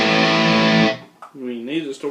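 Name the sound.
electric guitar through distortion pedal and Vox AC15 amp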